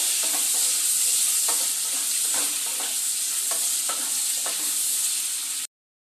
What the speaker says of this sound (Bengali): দিয়ে আলুটাকে খুব সুন্দর করে ভেজে নেব লাল লাল করে